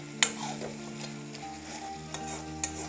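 Garlic paste for chutney fries gently in a pan, a faint low sizzle with occasional stirring scrapes and a couple of small utensil clicks, set over a steady background hum.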